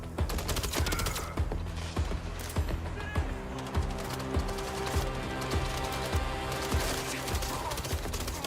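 Steady gunfire in a shooter video game, a continuous run of rhythmic shots and clattering reports over a busy background soundtrack, with no voices.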